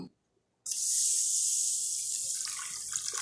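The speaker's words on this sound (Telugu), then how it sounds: "ఇప్పుడు మనం దీనిలో కొన్ని వాటర్ వేసుకుందాము" Water poured onto grocery grains in a container, a sudden loud rushing stream starting after a brief silence and continuing steadily close by.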